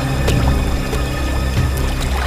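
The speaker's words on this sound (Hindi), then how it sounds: "सर इस तरफ से पानी के बहने की आवाज आ रही है।" Water flows steadily somewhere in a jungle on an island, a continuous rushing wash with a few soft splashes, fairly close and unbroken throughout.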